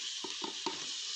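A constant hiss of onions sizzling in hot oil with three quick scraping stirs in the pan, close and quiet.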